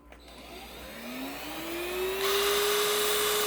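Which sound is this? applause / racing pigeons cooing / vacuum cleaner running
vacuum cleaner running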